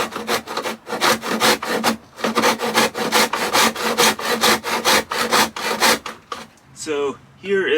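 A 1/2 inch poplar wood strip sawn to size by hand, loud rhythmic back-and-forth rasping strokes close by, about two per second, with a brief pause before the final strokes.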